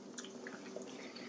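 Potato soup stirred in a pot after cornstarch and water are poured in, faint wet squelches and soft liquid drips close up, quiet and brief with no speech.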